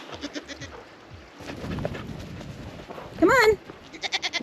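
Goats bleat on a farm property, with one loud, wavering bleat standing out near the middle among shuffling movement and a man's brief calls.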